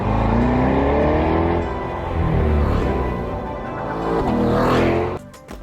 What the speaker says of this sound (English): This person is always there with their loud car.